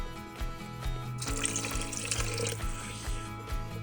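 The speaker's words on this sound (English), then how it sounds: "Now I'm going to put some water in the pasta." Water runs steadily from a tap into an Instant Pot pot holding dry pasta for a five-minute pressure-cooked recipe, a close, continuous splashing pour that grows fuller partway through, with no talk.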